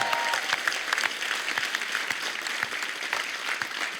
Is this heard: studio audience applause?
yes